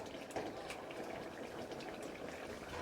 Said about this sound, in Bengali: আপনারা হয়তো রান্নার আরও আওয়াজ পাচ্ছেন, কারণ আমাদের জয়েন্ট ফ্যামিলি তো। এই পাশে আরেকটা গ্যাসে আমার মামুনি রান্না করছে।